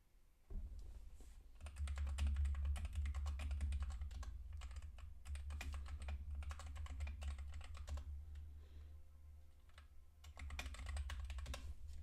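Typing on a computer keyboard during a game, with dense irregular key clatter in bursts and pauses, close and clear, over a low steady hum.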